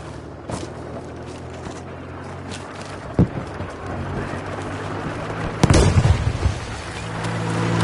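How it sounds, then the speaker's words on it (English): A bomb goes off in a PS4 video game, a sudden deep boom rising out of a busy background of game noise and scattered thumps, heard without voices. "Chucking a bomb!"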